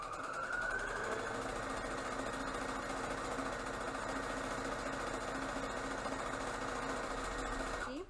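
Sewing machine stitching a straight seam on a fabric mask, a continuous fast mechanical rattle of the needle running close and steady throughout, with no talk.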